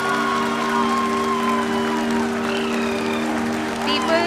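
Sustained applause from an audience at the Chandrayaan-3 moon landing fills the clip, steady and dense, with a low mechanical hum running beneath it.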